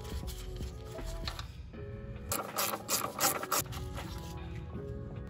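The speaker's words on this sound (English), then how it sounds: "Take off these two bolts right here, holding on the" A ratchet wrench clicks in quick bursts while loosening the two bolts that hold a Mazda Miata coilover, close and mechanical, with brief pauses and scraping metal between the runs of pawl ticks.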